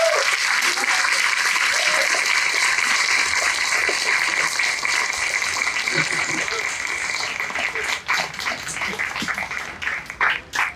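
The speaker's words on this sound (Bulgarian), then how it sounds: "Дами и господа, аплодисменти за Виктор Данчев, Стефан Русинов, Александър Чешков" A lecture audience applauds the speakers after a science talk, sustained dense clapping filling the hall, thinning toward the end into scattered claps as a voice begins.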